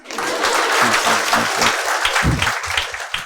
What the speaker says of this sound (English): Yeah, claps.